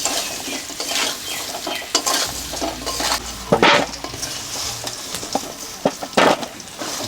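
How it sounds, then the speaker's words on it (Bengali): Pieces of silver carp frying in oil in a pan with turmeric and salt, a steady sizzle broken by repeated scraping stirs and small metallic clinks of a utensil against the pan, close and without talk. "এরকম করে লাল লাল করে ভেজে নিতে হবে।"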